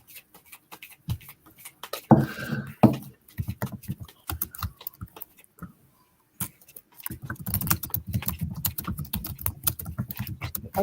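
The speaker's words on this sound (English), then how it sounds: "I'm just going to shuffle till she tells me to stop." Tarot cards are shuffled by hand in close, quiet bursts of dry riffling and tapping, with irregular flicks, a short pause, then a denser run of shuffling.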